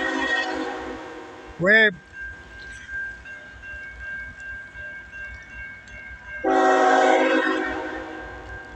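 Eastbound freight or passenger train passing a gated crossing in Michigan, its horn sounding loud and near in a short blast, then a long rumble of rail cars rolling by, with brief talk nearby.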